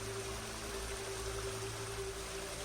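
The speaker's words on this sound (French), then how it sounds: "Le ruisseau scintille." A gently flowing stream trickles and burbles in a constant, quiet murmur with a faint steady hum behind it, calm and unbroken throughout.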